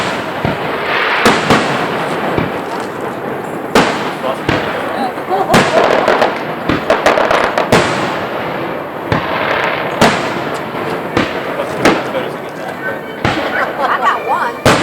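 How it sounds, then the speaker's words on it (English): Fireworks over Lake Burton, a dense run of sharp bangs and crackling bursts, loud and near, with people talking and calling out underneath. "What time they start the fireworks?"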